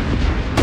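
A cannon fires in an anime, one loud close boom filling the short moment and followed by a second sharp blast at the end, with no talk over it.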